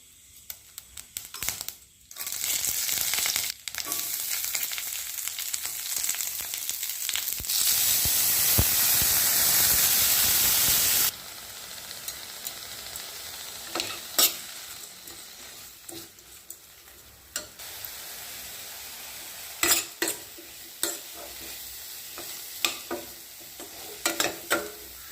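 Banana stem poriyal stir-fried in a pan, a loud steady sizzle with scraping stirs for about eleven seconds, then quieter frying broken by sharp clinks and scrapes of the spoon.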